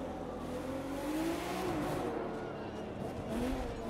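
Racing cars in The Crew video game, engines droning and revving steadily at mid distance with a rising and falling pitch, continuous with no talk over it.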